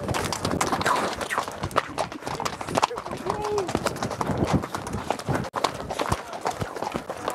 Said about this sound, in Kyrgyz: Ат ойнот.